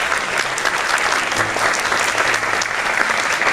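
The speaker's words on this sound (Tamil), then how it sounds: "உங்களுடைய கைத்தட்டல்கள் உங்கள் வெற்றியை நிரூபிச்சிருக்குன்னு நினைக்கிறேன்" Students at the Meenakshi Academy of Higher Education and Research applaud loudly and continuously, a dense, even roar of many hands filling a large hall throughout.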